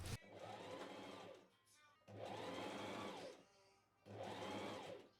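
Sewing machine stitching bias tape in three sustained whirring runs, each lasting about one and a half seconds, separated by short quiet pauses, heard up close and at a low, even level.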